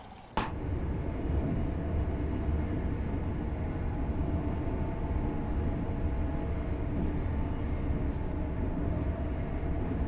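A train rushes past in the Train Sim World 4 railway simulator with a sudden onset, then a loud, steady, broadband rumble that continues for about ten seconds with no talk.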